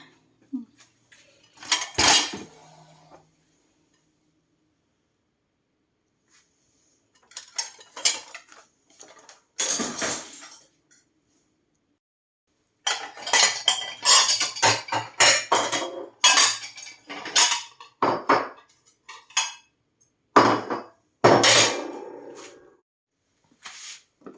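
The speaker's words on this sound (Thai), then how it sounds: "ในระหว่างรอก็จะเอาจานออกจากเครื่องนะคะ" Dishes and cutlery clatter and clink as plates are lifted out of a dishwasher in a home kitchen, irregular bursts of sharp clanks separated by pauses, close and fairly loud, no talking heard.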